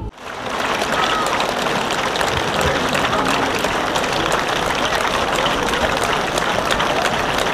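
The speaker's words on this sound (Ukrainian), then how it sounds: "а під час вручення відзнак віддали належне родинам полеглих, аплодуючи стоячи." A crowd at a memorial ceremony gives a standing ovation, with dense, sustained loud clapping that starts abruptly and holds steady throughout.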